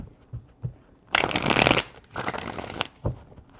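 Tarot cards are shuffled in two long, crisp riffling bursts, with soft handling taps before and after, close up and without talk.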